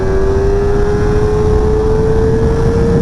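Kawasaki ZX-4RR 400cc motorcycle engine pulling hard under acceleration, a loud steady drone with a slowly rising tone held throughout, heavy rumble and rushing wind noise underneath, no voices.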